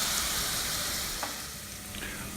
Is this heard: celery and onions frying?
yes